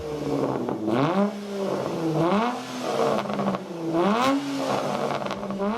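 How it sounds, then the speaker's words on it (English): A Hyundai Tiburon GT's V6 engine revs up and down repeatedly, pitch sweeping upward in several rising surges, loud and close. "go for the Tiburon GT because it has a V6 engine, which sounds insane"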